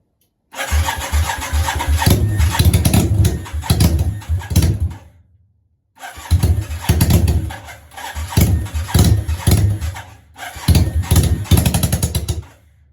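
A Yamaha Virago 535 motorcycle engine cranks and catches twice, running roughly with uneven, pulsing bursts, cutting out for about a second between attempts, loud and close with no voices.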